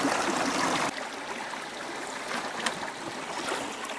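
A mountain stream in Utah rushes and trickles in a steady broadband wash, loudest in the first second and then continuing slightly softer and close by, with no talking.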